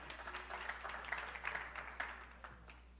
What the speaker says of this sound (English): I love that you clap after announcements